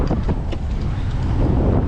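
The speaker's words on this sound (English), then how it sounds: "It's super windy, I apologize" Strong wind buffets a microphone outdoors at an automotive shop, a steady loud low rumble with gusty swells and no speech.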